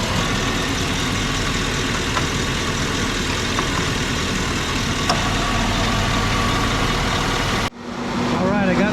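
A Chevy Suburban 2500 engine held at a steady 2,000 RPM while its rear AC lines are evacuated and recharged, a continuous loud drone close by that drops off sharply near the end.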